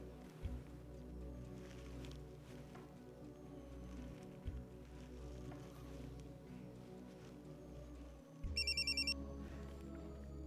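A mobile phone ringtone chirps in a short burst of rapid tones near the end as a call is placed, faint over a steady low hum and soft background noise.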